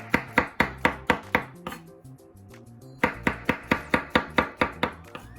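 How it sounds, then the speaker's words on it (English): A knife chops through aubergine on a board in two close, steady bursts of sharp rhythmic knocks, broken by a short quiet pause. "I simply now just need to start chopping"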